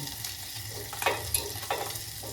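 Coconut and spices fry in oil for North Karnataka-style stuffed brinjal, a steady close sizzle with soft scraping stirs of the spoon in the pan and no voices.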